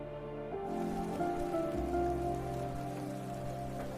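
A heavy nighttime rainstorm pours down steadily, a dense continuous wash of rain drumming on surfaces with a low rumbling undertone throughout.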